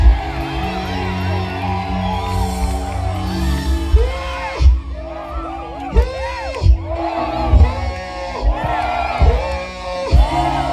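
Church congregation at a worship service shouts, whoops and cheers loudly in repeated surging bursts while a preacher's amplified voice rises over the crowd.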